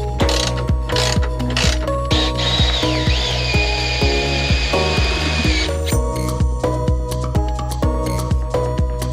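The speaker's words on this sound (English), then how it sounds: "we've got to bolt these on now" Parts being bolted onto a camper van during a DIY build: a loud, continuous rhythmic clicking of a ratchet or power tool driving fasteners, with a whining mechanical tone in the middle.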